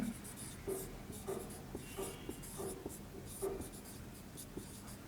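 Pen or marker writing a physics formula during a lecture, a quiet series of short scratchy strokes and taps in an irregular rhythm, close and faint with no talking.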